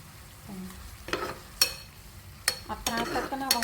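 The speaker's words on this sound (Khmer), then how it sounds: "ផ្សិតក្ងោកឆាប្រេងខ្យង" Oyster mushrooms stir-fried in oyster sauce without water in a pan give soft sizzling and several sharp scraping stirs in quick bursts, close and fairly loud, with no voices.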